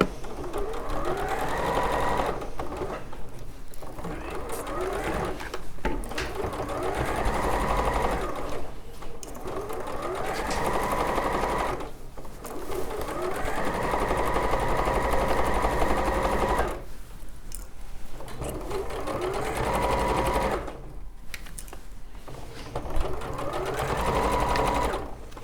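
Domestic sewing machine stitching a mini hexagon patchwork quilt: loud rapid mechanical whirring in bursts of several seconds each, separated by short pauses, close and continuous through most of the stretch.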